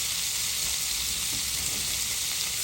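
Garlic, thyme and rosemary sizzle steadily in a skillet alongside filet mignon, a dense, even hiss of frying fat that stays close and loud throughout with no pauses.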